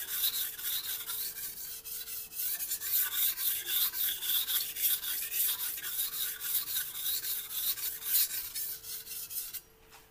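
Knife blade stroked steadily across a Shan Zu whetstone on the 1000 grit side, a close, continuous rhythmic rasping with regular back-and-forth strokes, alone without speech.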